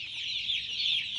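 Dense, steady chirping of a large flock of newly arrived broiler chicks, around seven thousand birds, in a poultry brooding house; a continuous high-pitched chorus with no gaps, close and fairly loud.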